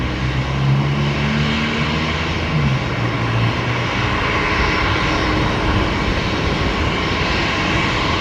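An airliner on a ferry flight at Brisbane Airport roars loudly and steadily, its engine tone sliding downward early on before settling into a broad sustained rumble.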